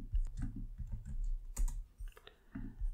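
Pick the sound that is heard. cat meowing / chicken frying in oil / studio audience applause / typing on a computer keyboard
typing on a computer keyboard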